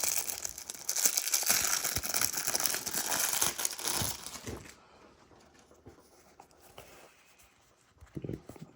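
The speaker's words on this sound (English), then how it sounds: "we are going to open up a 1990 Fleer Cello pack" A 1990 Fleer cello pack of baseball cards is torn open, giving a loud, close run of crinkling and tearing wrapper plastic for about five seconds, then quieter handling of the cards and a few faint rustles.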